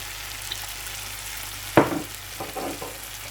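Sardines and fish sauce hit a hot pan with bitter gourd, a sudden loud sizzle followed by a steady frying hiss and a few stirring scrapes.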